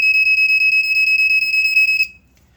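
Smoke alarm sounding after its test button is pressed, a loud, shrill, rapidly pulsing electronic tone held for about two seconds before stopping, with nothing else heard.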